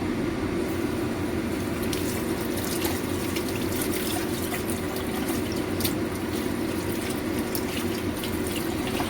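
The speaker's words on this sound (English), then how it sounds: "then you can wash your stuff at the same time to save your time" Tap water runs steadily into a kitchen sink while dishes and utensils are washed, a loud, continuous close splashing with faint clinks scattered through it.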